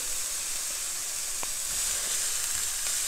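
Chopped cabbage hits a hot pan and sizzles steadily and loudly over high heat, a dense continuous frying hiss from start to finish with no voices.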